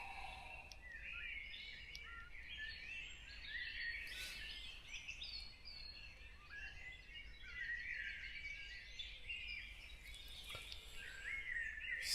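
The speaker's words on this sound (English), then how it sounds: "I've been listening to this bird song for the last" Several birds sing and chirp at a distance at a wild hammock campsite just after 5:15 on a late-March morning, overlapping calls with soft background hum.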